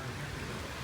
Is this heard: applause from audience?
no